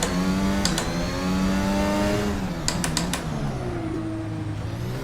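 A racing car in the Assetto Corsa driving game brakes hard from high speed on a long straight on an Adelaide street circuit, its engine note dropping through downshifts and then climbing again as it accelerates, loud and steady throughout.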